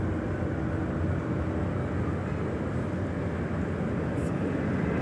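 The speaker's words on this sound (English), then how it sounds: "This is American Airlines 1244 coming in from Dallas Fort Worth on the 737-800." An American Airlines Boeing 737-800 arrives from Dallas Fort Worth at Washington Reagan National, a loud, dense, steady jet roar filling the whole stretch without letup.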